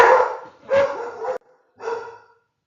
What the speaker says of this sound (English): Sorry, that's my doggy.